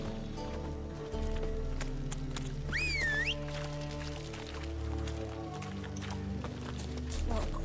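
Horse galloping in the video game The Witcher 3, rapid clip-clop hoofbeats over a layered musical and ambient game soundtrack, with a whinny-like call partway through.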